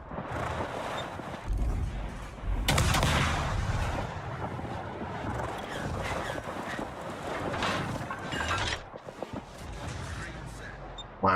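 Naval gunfire in the World of Warships video game, a sustained stretch of booming salvos and rumbling blasts, loud and dense throughout, with some speech mixed in.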